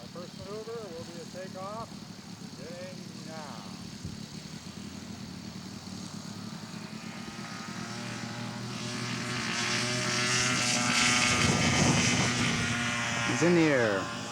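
A radio-controlled scale model airplane at a scale aircraft show throttles up for takeoff, its propeller engine droning steadily and swelling louder as it departs, while a commentator talks over the early part.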